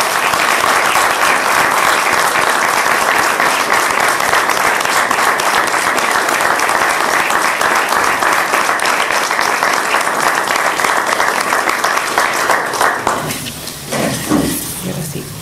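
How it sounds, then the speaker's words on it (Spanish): Sustained audience applause at a political gathering, a dense, loud roar of clapping that holds steady for over twelve seconds before tapering off near the end. "Un aplauso para nuestro..."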